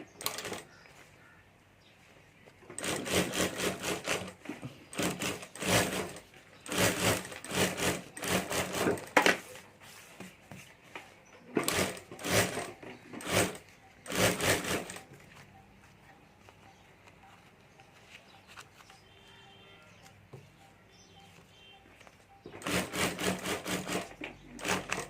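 A sewing machine stitches the lining of a handmade handbag in repeated bursts of rapid mechanical whirring, with short quiet pauses between runs.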